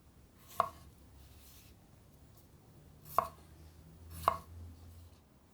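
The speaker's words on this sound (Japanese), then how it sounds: "さらに3等分ほどの乱切りにします。" A knife chops through a vegetable on a cutting board, cutting it into rough chunks for a chicken and vegetable tomato stew. Three sharp, isolated cuts land close by in a quiet kitchen.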